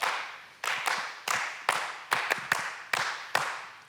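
An audience claps along in time to kick off a song at a church service, about ten sharp, fairly loud claps in a loose steady rhythm with no talking.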